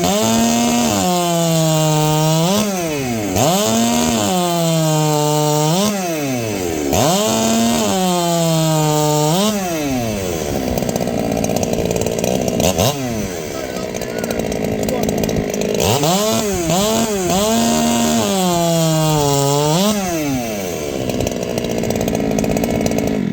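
A Husqvarna 395 chainsaw cuts wood, loud and close, its engine repeatedly bogging down in the cut and revving back up in steady cycles for over twenty seconds.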